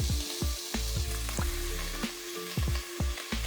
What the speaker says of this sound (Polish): I tak sobie niech piści się dwie trzy minuty, może na mniejszym ogniu.